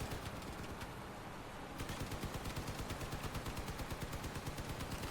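Rapid sustained machine gun fire from a gun truck in Crossout, loud and close, a dense clattering stream of shots that keeps a fast steady rhythm.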